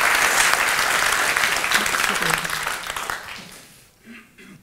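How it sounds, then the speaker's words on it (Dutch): An audience applauds to welcome cartographer Menno-Jan Kraak before his lecture, full clapping that tapers off over a few seconds, leaving a faint voice afterward. "Ik wil een heel hartelijk welkom en applaus voor Menno Jan Kraak."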